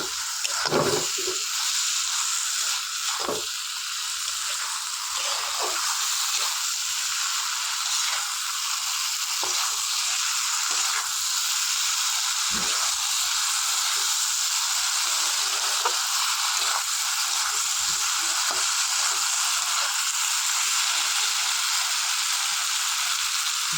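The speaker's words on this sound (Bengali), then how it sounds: "আমি এর উপরে এবার আলু ভেন্ডি ভাজা ছিল এটা দিয়ে দিলাম" Fried okra and potato go into a pan of cooked-down spice masala, giving a continuous soft hiss and sizzle with a few sharp knocks and scrapes of the utensil, no talking.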